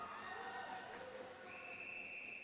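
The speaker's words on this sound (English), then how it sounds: "the whistle goes, so we'll have a face-off out here in the neutral zone" A referee's whistle sounds at a U18 women's ice hockey game, a steady high tone held over the faint hum of the arena crowd.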